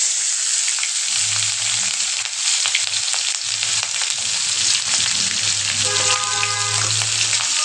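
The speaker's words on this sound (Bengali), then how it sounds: "এবার দিয়ে দিব আমি কেটে রাখা এই যে পেঁয়াজ আর কাঁচা লঙ্কা।" Sliced onion and green chili hit hot oil with cumin seeds and dried chili, giving a loud, steady sizzle and crackle that runs throughout, with occasional stirring scrapes and no talking.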